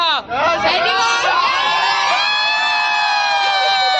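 Aboard a cruise ship, a crowd of passengers erupts in loud, continuous cheering, whooping and shouting for their home state, with high-pitched voices layered together close by.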